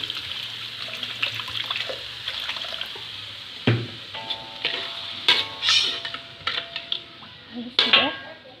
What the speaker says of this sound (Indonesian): Setelah harum, kita masukkan air sedikit.